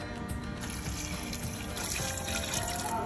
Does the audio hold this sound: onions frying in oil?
no